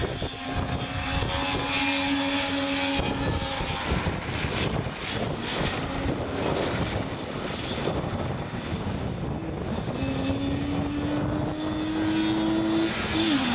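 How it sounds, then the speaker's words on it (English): Two-stroke Saab 96 rally car on a Welsh forest stage, its engine howling loudly and continuously with rising and falling revs, heavy wind buffeting underneath and no voices. "the two-stroke Saab 96 were next onto the stages, the distinctive engine note howling its way through the forests"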